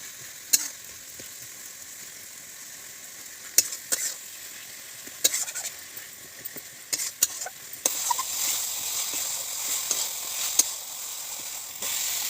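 Oil sizzles in a pan while fish curry fries, with a steady hiss under sharp spatters and stirring clicks, and the sizzle grows louder and denser partway through.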